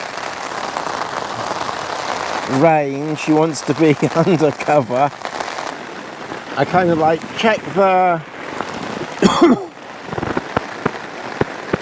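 Steady hiss of rain falling on a surface throughout at a wild camp in the Lake District, with a person talking over it in bursts.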